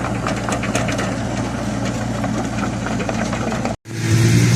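A farm tractor's engine runs steadily as the tractor drives down, giving a loud, constant mid-to-low droning hum. A brief dropout comes near the end, after which the engine drone returns heavier and lower.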